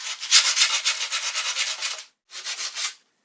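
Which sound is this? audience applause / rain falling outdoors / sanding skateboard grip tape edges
sanding skateboard grip tape edges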